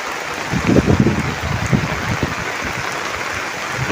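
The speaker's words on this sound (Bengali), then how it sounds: "অনেক জোরে জোরে বৃষ্টি হচ্ছে" Hard, driving rain falls on flooded farm fields where radish and cabbage crops are planted, a loud continuous wash with some wind buffeting the microphone and no speech.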